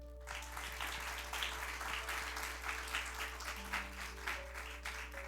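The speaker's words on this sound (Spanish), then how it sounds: "Dale un aplauso a Cristo." During a Spanish-language sermon, a congregation claps for Christ, a soft, distant patter of many hands over a steady low electrical hum.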